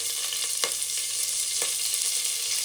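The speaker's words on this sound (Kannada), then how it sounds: "ಇವಾಗ ಸ್ವಲ್ಪ ಕರ್ಬೇವಿನ ಸೊಪ್ಪು ಹಾಕ್ಕೋತೀನಿ." Curry leaves dropped into hot coconut oil with mustard seeds and cumin give a bright, continuous sizzle with crisp pops and crackles, close up and alone.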